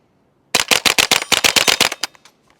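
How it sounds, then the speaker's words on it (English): Ruger 10/22 Backpacker rifle fired rapidly: about a dozen sharp, evenly spaced shots in a quick string lasting under two seconds, loud and close, followed by fading echo. "It's a good way to waste a lot of ammo. Definitely not precision rifle shooting"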